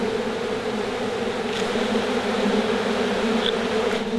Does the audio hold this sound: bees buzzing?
yes